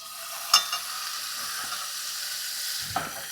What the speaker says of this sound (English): Throw one in here, see what happens. Yeah, listen to that.